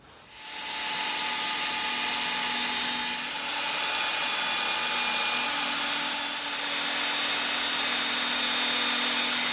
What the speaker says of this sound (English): I'm just going to drill a little pilot hole to accommodate the screw